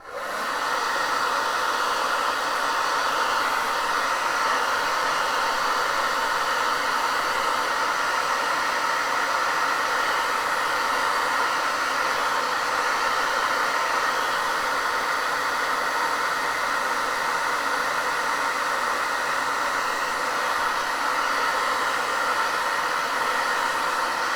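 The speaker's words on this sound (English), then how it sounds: "when I use the hair dryer, it really makes the paper curl" A hair dryer drying paper blows continuously at a steady, even whoosh for the whole stretch, close and moderately loud, with no talking.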